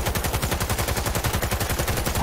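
Rapid automatic gunfire in Cyberpunk 2077, a steady, evenly spaced stream of loud shots rattling without pause for the full length.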